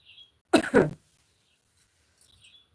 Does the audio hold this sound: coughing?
yes